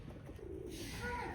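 Pigeons kept on a goat farm coo softly and steadily against a low background murmur, with a faint brief chirp near the end.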